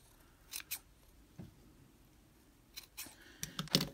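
Scissors snip through yarn while trimming a homemade pom-pom. There are several quick, crisp cuts close by: a pair early on, then a cluster of rapid snips at the end, with no talking.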